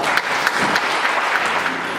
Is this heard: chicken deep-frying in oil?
no